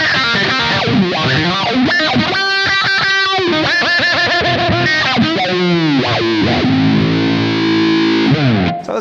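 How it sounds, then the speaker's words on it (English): Electric guitar run through a bass wah pedal into heavy distortion, the sweeping filter giving vocal, vowel-like swells across a continuous, loud, dense line of sustained notes and chords with no talking. "I use a bass wah instead of a guitar wah"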